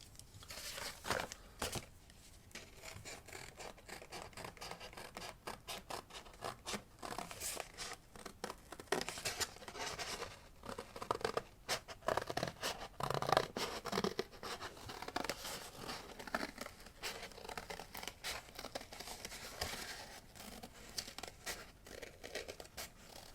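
Scissors cutting out a paper circle traced around a cup, with irregular snips, crinkles and paper rustles, faint and close, continuing unevenly throughout.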